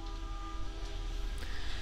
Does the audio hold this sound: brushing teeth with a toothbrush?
no